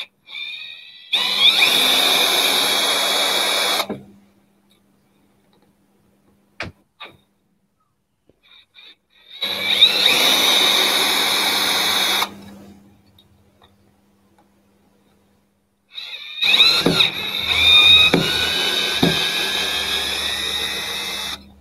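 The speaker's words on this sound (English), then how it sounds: "Right, drill, screwdriver. Let's see how many of these screws I can snap." A drill drives screws into a lump of burr ash wood in three separate bursts of a few seconds each, close and loud, with faint clicks in the quiet gaps between them.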